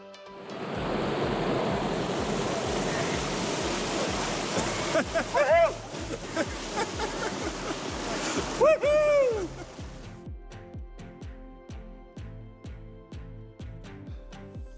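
Small waterfalls spill into a backcountry swimming hole in a desert canyon, a steady loud rush of falling water that fills the scene, with a few brief knocks and a quieter, sparser stretch toward the end.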